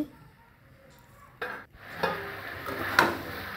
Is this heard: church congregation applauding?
no